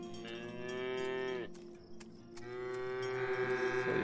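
Cows in the farming game Farm Together let out two long, loud, tonal moos, one after another with a brief pause between them, close up and with no talking.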